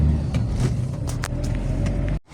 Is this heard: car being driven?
yes